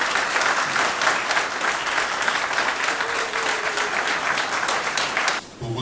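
Loud, dense applause from a crowd at a women voters' election thank-you rally in Loandjili, steady for over five seconds before briefly dipping near the end.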